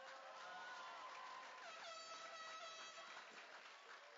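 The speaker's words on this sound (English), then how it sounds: "They even got an air horn." An air horn blares among the crowd at a high school graduation ceremony, repeated honking blasts layered over cheering and applause, heard from a distance in a large venue.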